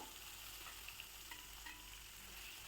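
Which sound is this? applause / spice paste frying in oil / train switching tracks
spice paste frying in oil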